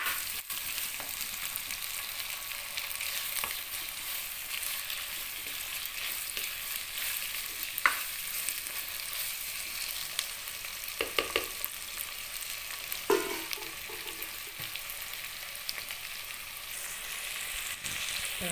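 Onions sautéing in a pan for a Tamil home-style karunaikilangu masiyal, a continuous hissing sizzle with occasional scraping stirs and small clatters of a spoon against the pan, no voices.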